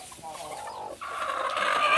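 Hens near nesting boxes cluck in short, nasal bursts, a few close calls in quick succession over a soft background.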